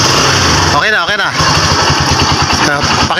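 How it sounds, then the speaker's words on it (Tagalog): A Kawasaki Barako motorcycle with an uneven, misfiring engine runs loud and close, revving up twice in quick rises before settling into a rough idle, with people talking over it. "ang motor ni boss, pinaandar natin, may minor naman, bumibirit naman"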